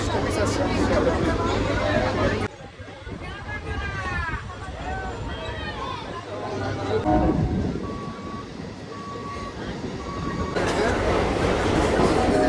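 Riding a local train bound for Sheoraphuli during the Tarakeswar Shravani Mela pilgrimage, with a loud steady rumble of the moving carriage, a quieter stretch in the middle, faint squeals and beeps, and voices talking over it.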